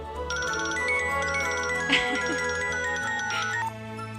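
A phone ringtone in a Telugu film scene plays as a bright, continuous electronic melody with a brief louder chime partway through, heard alone without speech.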